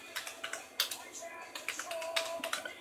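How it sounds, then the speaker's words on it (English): Keys clacking on a Dell computer keyboard in quick, uneven bursts of sharp clicks, close by, with a voice talking over the typing. "this is all coming from a Dell keyboard. I mean, like, you can hear me clicking on it in the background."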